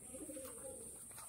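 Pigeons coo softly in a loft, low faint calls repeating under quiet background hiss.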